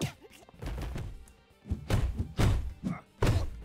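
A thrown weapon strikes in the side-scrolling game BROK the InvestiGator, giving several heavy thunks and thuds in quick bursts, mixed with other game effects at moderate loudness.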